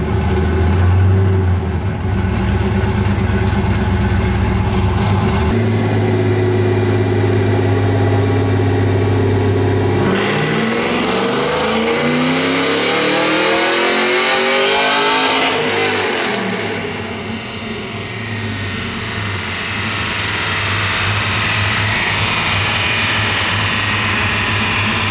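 A Chevrolet Camaro SS 1LE with an LS-family V8 runs a dyno pull, the engine roaring loud and steady, climbing in pitch through a long sweeping rev before easing off and holding a high drone, with no talk.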